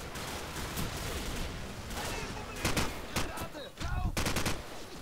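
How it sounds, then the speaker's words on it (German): Rapid automatic gunfire in Call of Duty 4: Modern Warfare, with bursts of shots over a constant noisy background. The shooting grows louder and denser toward the end, and a player talks at times during it. "Ach, du schießt auf mich."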